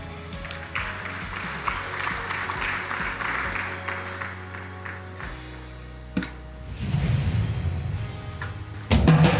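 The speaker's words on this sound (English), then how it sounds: "A round of applause." Audience applause at an energy week event rises and falls as a broad patter of clapping in a large room, moderately loud, with a low hum underneath and a brief louder burst near the end.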